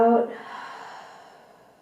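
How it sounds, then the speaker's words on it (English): A single full exhale during a yoga flow, a breathy rush of air at the start that trails off into a soft, fading hush over the next second or so, close and alone. "full breath out"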